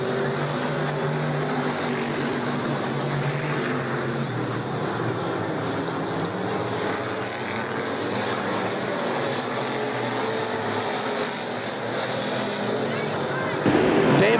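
Race cars roaring off the green flag at Winston Speedway, a dense, steady wall of engine noise at high volume throughout, with a race announcer's voice blended in underneath.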